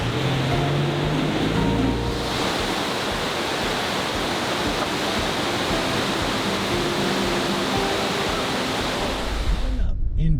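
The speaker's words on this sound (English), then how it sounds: "Our next stop is this beautiful waterfall right here." Waterfall along the Road to Hana on Maui, a steady loud broadband rush of falling water filling the scene for about ten seconds, with faint voices briefly audible early on.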